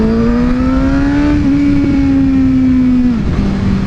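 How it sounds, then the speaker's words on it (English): A loud motorcycle engine with a Yoshimura Alpha exhaust, baffle removed, holds a steady, throaty idle, its pitch rising slightly, then dropping abruptly near the end, close and continuous. "Usual exhaust comparison stuff with the baffle in and out"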